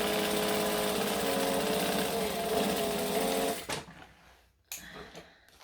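A sewing machine runs in one steady, loud burst of stitching, then cuts off abruptly. A few brief, softer mechanical clicks and short whirs of back stitching follow, with no talking.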